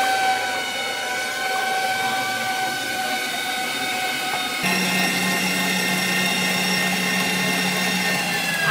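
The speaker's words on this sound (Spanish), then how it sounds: "primero vamos a empezar con batir a punto de turrón todas nuestras claras" An electric mixer beats 12 egg whites toward stiff peaks, giving a steady close mechanical whir that holds throughout and shifts to a higher-speed, fuller drone partway through.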